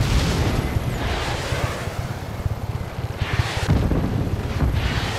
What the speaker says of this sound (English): Missiles raining down on you.